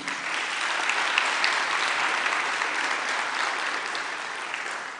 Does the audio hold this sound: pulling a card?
no